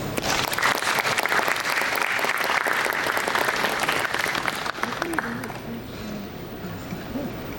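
Seminar audience at an SP School of Computing industry event claps to welcome a speaker, dense applause for about five seconds that fades out, leaving a quieter room with a voice speaking.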